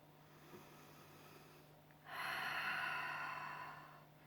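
A gentle muscle-strengthening class participant exhales in one long, breathy push lasting about two seconds, close and clear against a quiet room.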